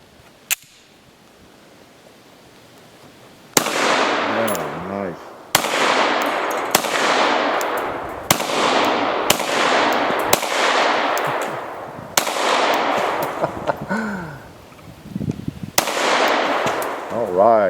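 FN 5.7 pistol firing about a dozen sharp, loud gunshots at an outdoor range on a farm, in irregular succession with ringing echoes after each report.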